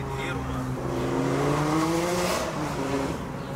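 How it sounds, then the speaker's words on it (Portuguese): A Lamborghini engine revs hard on a street, its pitch climbing and sweeping up loudly close by, while people talk excitedly over it. "o Renato acelerando tudo."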